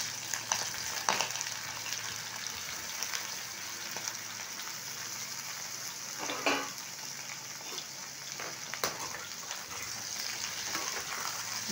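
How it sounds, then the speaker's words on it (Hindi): Chopped raw banana fries in hot mustard oil with a steady, bright sizzle that holds throughout, broken by a few scraping stirs and soft clinks, close and moderately quiet with no talking. "ऑयल हमारा पूरी तरीके से गर्म हो चुका है, डाल देंगे इसमें अपने केला को जो हमने काट के रखा है।"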